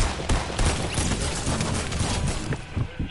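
Loud, close gunfire in the video game Fortnite, with rapid overlapping shots and a shotgun among them, filling the whole moment with little pause.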